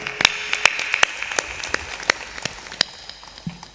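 A handful of scattered, uneven claps ring out from the audience at a Hindi religious sermon on greed, sharp isolated hand smacks spaced apart rather than a full ovation.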